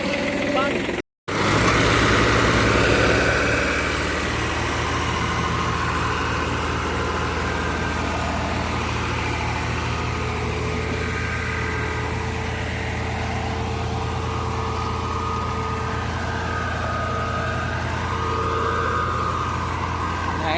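A tractor stuck in mud runs with a steady, low, rumbling engine drone. It is continuous apart from one brief dropout near the start.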